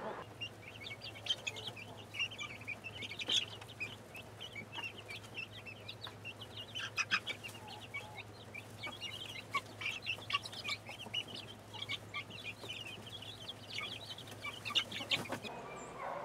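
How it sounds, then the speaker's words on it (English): Baby chicks in a brooder, all with leg bands, peep and chirp continuously in a dense high-pitched chorus over a steady low hum. "Baby chicks in the brooder, all with leg bands."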